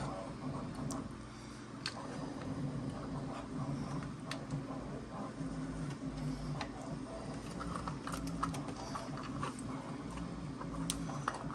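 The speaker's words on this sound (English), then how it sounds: "So we gotta feed these screws in here." Screws being fed into a small 3D piano music box, giving a run of faint mechanical ticks and clicks at close range over a steady low background.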